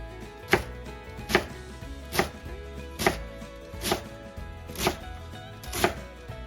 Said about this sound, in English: Time to chop up some cabbage now.